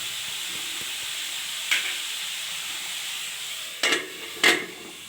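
Cabbage and peas fry quietly in a pan, a soft steady sizzle with three short louder bursts of stirring near the end, no talking.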